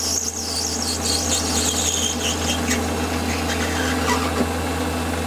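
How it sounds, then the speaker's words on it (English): A lathe parting tool cutting metal at 1,000 RPM while making watch hand removal levers, giving a loud continuous wavering squeal over a steady motor hum, close and without speech. "So up with the parting tool."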